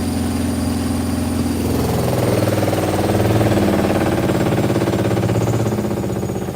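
A Hotpoint washing machine running in a live test knocks where it rubs against wood, making a loud, steady, rapidly repeating thumping over a droning motor hum with no talking.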